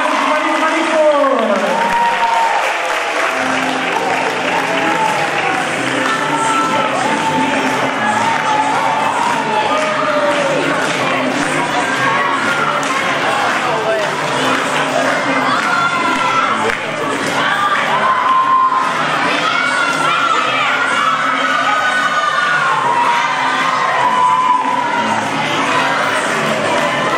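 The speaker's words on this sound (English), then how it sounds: "let's give a big round of applause for Buckley class of 2024" A school assembly crowd of students and families breaks into sustained applause mixed with children's cheers and shouts, loud and continuous for nearly half a minute, with scattered voices in the din.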